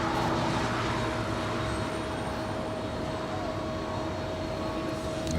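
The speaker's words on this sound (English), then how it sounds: "that is FedEx Flight 2750 coming in from Indianapolis, Indiana. It's an MD-11" A 30-year-old FedEx MD-11 cargo jet arrives at Los Angeles airport, a steady, broad roar of jet engines with a faint whine, constant and moderately loud throughout.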